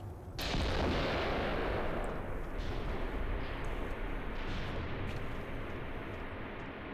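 Artillery fire in the video game Graviteam Tactics: one sudden loud blast goes off, then a long rumbling roll that fades slowly across the following seconds, with fainter distant thumps inside the decay.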